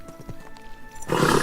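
A horse in the Kingdom Come: Deliverance 2 video game gives a few soft hoof clops and snorts, then breaks into a loud, rough neigh that ends the moment.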